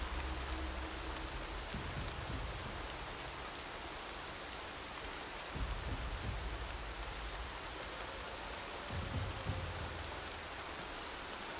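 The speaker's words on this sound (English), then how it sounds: "This rain is working to our advantage." Steady rain falls in the video game Horizon Zero Dawn, a soft continuous hiss with a few faint low thumps and rumbles beneath it.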